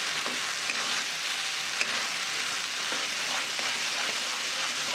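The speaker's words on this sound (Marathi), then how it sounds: "आता आपण इथे बटर घालू।" Butter goes into an onion-tomato paste frying in a pan for a dhaba-style paneer masala gravy, giving a dense, even, close sizzle that holds steady throughout with no voices.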